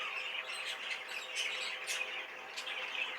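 Young show birds calling inside a cage, a steady stream of sharp chirps and squawks, close and fairly faint, with no voices.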